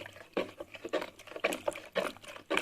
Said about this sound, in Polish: I to jest po prostu zimna woda z kranu.